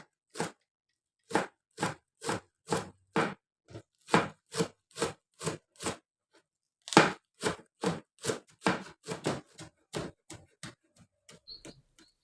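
A knife finely slices scallion greens on a board for a tapioca-starch cilok dough, giving crisp, evenly spaced chopping taps in two quick runs with a short pause between, close and clear against silence.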